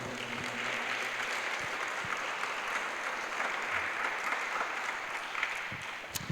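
A church congregation claps for the Lord during a sermon, a continuous wash of applause at moderate level with a faint tonal background and a few louder claps near the end.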